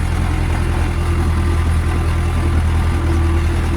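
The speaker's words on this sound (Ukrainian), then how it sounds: "Трактор Юмзе 82 коней." A YuMZ-82 farm tractor engine runs at a steady idle, a loud, close, low rumbling drone with an even throb and no pauses or talking.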